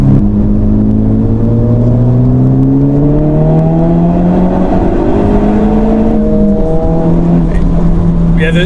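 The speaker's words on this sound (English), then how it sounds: "The turbo is coming in really nice." Honda Civic Type R FK8 with 316 bhp accelerating hard on a race track, its turbocharged engine note rising steadily through the revs, loud and close, with a faint whir of turbo spool layered over the drone.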